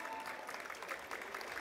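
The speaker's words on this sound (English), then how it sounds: "여러분 큰 박수 부탁드리겠습니다." An audience claps at a promotional campaign event at Hong Kong International Airport, a brief, moderately faint patter of applause that stays steady throughout.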